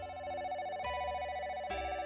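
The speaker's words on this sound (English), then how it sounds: "I hear the phone ringing." A telephone rings in the video game Sakura Swim Club, an electronic tone repeating in three even bursts, clear and close with no voices.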